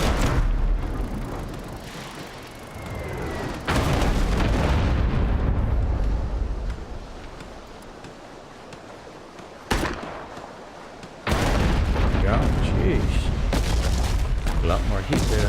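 Heavy booming blasts of mortar rounds in the naval game Abandon Ship, loud rumbling explosions arriving in separate surges with quieter stretches of crackle and ambience between them.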